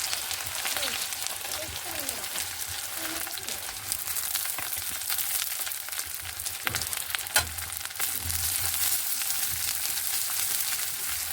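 Chopped shallots, coconut pieces and curry leaves fry in hot coconut oil in a cheenachatti, giving a continuous dense sizzle and crackle close by, with occasional scraping stir sounds throughout.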